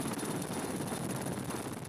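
A helicopter's main rotor blades beat out a steady, dense, loud roar and whir, close by and unbroken throughout, with no voices over it.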